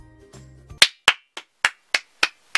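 Seven sharp, close hand claps from a single person ring out at an even pace, each one crisp and quickly fading, after a brief musical tone at the start.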